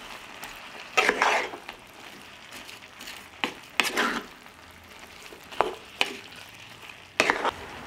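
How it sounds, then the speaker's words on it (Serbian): Chopped vegetables seasoned with pepper and sweet ground red paprika fry in a pan, a low sizzle broken by several loud scraping bursts of stirring spaced a second or two apart. "Sve ću promešati i nastaviti da pržim dok povrće ne omekša."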